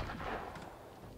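Grape shot cannon fire in the naval game Abandon Ship, a brief dull booming blast with a rumbling tail, heard alone.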